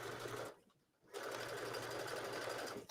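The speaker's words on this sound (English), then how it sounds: "let's do the other side. Again, start stitching." A domestic sewing machine stitches along the leg of a pair of jeans being altered, running in a loud steady whir with a brief pause near the start before resuming continuously, close up.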